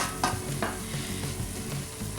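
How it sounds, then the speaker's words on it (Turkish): Flour and oil being stirred and toasted in a pot for Turkish arabaşı soup: a steady low sizzle with a few scraping strokes of the spoon, close and moderately quiet, with no speech. "unumuzu tenceremizi ekleyip altını açıp pembeleşene kadar kavuruyoruz"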